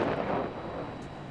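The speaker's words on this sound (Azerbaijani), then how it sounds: "Naxçıvan əlahiddə Ümum Qoşun Ordunun əsgərləri tərəfindən yaylım atəşi açıldı." Soldiers of the Nakhchivan army fire a rifle volley salute at a martyr's funeral: one loud blast at the start that quickly fades into a rumbling decay.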